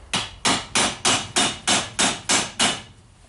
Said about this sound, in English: I will hammer it a little bit on the vise.